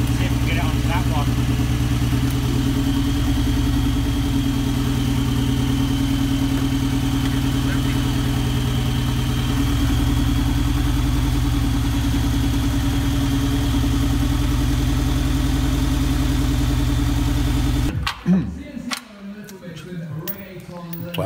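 A 1972 Toyota Hilux with a turbocharged MX5 engine runs steadily after its first start, a loud even idle with a ticking rhythm that lasts about eighteen seconds before shutting off abruptly, followed by clatter and handling noises.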